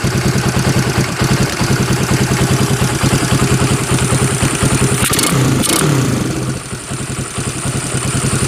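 Fury 125 motorcycle fitted with a Pitsbike 24mm carburetor, Mio manifold, universal rotator and velocity cap, idling close up with a steady, loud, lumpy putter and a brief rise in engine pitch midway, no voices.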